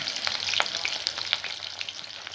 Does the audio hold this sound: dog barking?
no